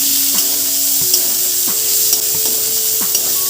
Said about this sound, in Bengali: এবার পেঁয়াজটা ভালো করে ফোড়নের সাথে একটু ভাজা ভাজা করে নিচ্ছি